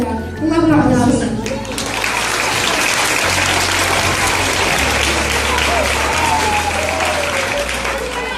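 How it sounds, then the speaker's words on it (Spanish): Loud, sustained applause from a school audience at a third-grade primary-school performance, with a brief voice at the start and music playing underneath the clapping throughout. "Un aplauso."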